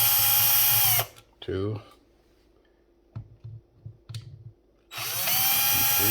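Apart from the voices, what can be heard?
removing switch plate screws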